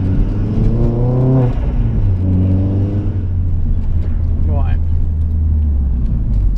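A Vauxhall Astra VXR accelerating hard in second gear, its engine note rising steadily then dropping and climbing again, heard from inside the car under a constant road rumble.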